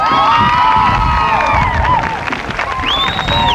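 Parade spectators at the 1984 Mother Goose Parade cheer and whoop steadily, a loud, dense crowd roar with high shouts and children's voices rising above it throughout.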